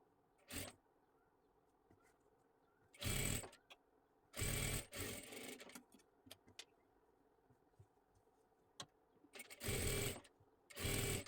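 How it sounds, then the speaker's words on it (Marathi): A domestic sewing machine stitches along the edges of a puff sleeve in several separate loud bursts, each lasting about a second, with quiet pauses between them. "आता इथे आपल्याला एकदम अशी कडेकडेला सर्वात आधी शिलाई देऊन घ्यायची आहे।"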